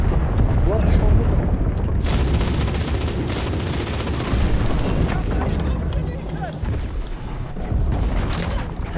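Sustained heavy gunfire from an MG42 machine gun in the World War II shooter Enlisted, mixed with battle noise and explosions, dense and continuous throughout, with a voice talking over it.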